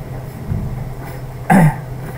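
One short, loud cough or throat-clearing rises over a low background hum.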